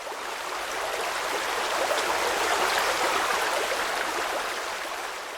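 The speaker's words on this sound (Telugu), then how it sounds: "పక్కనే 100 అడుగుల ఎత్తు నుంచి కిందకి పడుతున్న వాటర్ ఫాల్స్" Surla waterfall in the hills of Goa and Karnataka drops about 100 feet, heard as a broad, continuous roaring rush of water that swells slightly and then eases, steady throughout with no voices.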